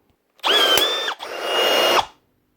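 A Milwaukee pop rivet gun, one that is failing to grip the rivet end, pulls a rivet with two close motorized whirring bursts, each a bit under a second long, loud and near, with no talk.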